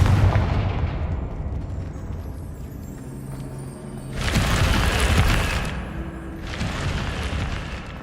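Two loud bursts from the Confringo blasting spell in the game Hogwarts Legacy, each a broad roaring explosion lasting over a second, following a deep rumbling boom at the start.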